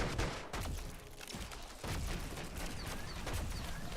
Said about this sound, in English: I can shoot 3 bullets quickly